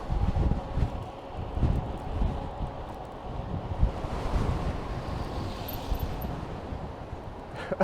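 Strong wind buffets the microphone during an ebike ride along Yonge Street in Toronto, a loud, constant low rumble with gusty swells throughout and no speech.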